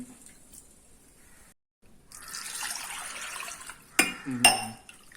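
Water is poured into a pot of tomato rasam being made, a soft steady splash for about two seconds, followed by a couple of sharp clinks of a utensil against the vessel.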